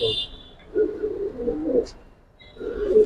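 Giribaz pigeons in an Old Dhaka loft give short, close coos in a few separate bursts, with quiet pauses between them and a faint voice briefly in the background.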